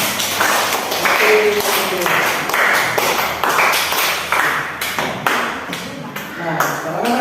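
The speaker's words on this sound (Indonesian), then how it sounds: "Tepuk tangan untuk kita semua." Primary schoolchildren clap together in a classroom, a burst of sharp, close, rhythmic claps of uneven density with voices mixed in among them.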